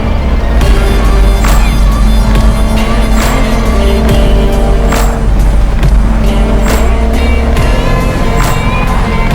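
A Ferrari 599 SA Aperta roars loudly and continuously through its exhaust muffler, with repeated throttle surges and sharp crackles from close by. Nothing else is heard over the engine.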